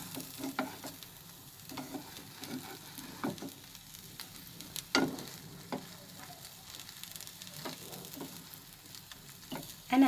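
Cheesy vegetable sandwich frying in a covered pan, a soft, steady sizzle with small pops and crackles, faint and close, with no voices.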